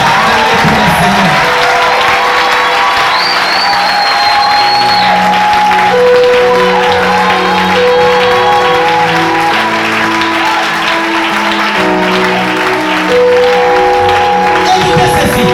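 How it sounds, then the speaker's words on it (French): A church congregation applauds and cheers for the Lord, a dense sustained wash of clapping and crowd voices under steady musical tones, loud and continuous throughout. "Est-ce que nous pouvons acclamer pour le Seigneur?"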